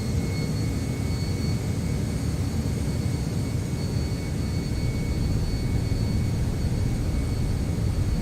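Steady, loud jet engine roar from a simulated MD-11 airliner spooling up to takeoff power in X-Plane 11, a dense broadband rumble with faint high whine tones that holds constant throughout, no voices.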